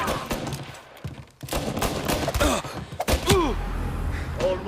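Scattered gunfire and thuds in the Mafia video game, a few sharp shots and impacts at moderate loudness, mixed with game sounds and brief voices.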